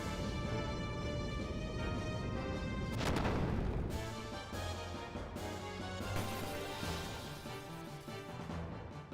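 Booming cannon fire in a video game, heavy low blasts with a big crash near the three-second mark, layered over dense game music and rumbling battle noise with no talking.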